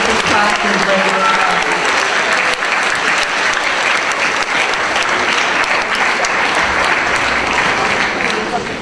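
Applause from an audience at a school board meeting honoring students with a perfect score in a math league, a steady, dense clapping that fills the room without pause for about nine seconds.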